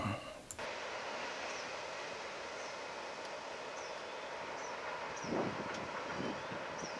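Train 26A passes at a distance with a faint, steady rumble under wind noise, with a few brief horn-like tones and a swell of rolling noise toward the end.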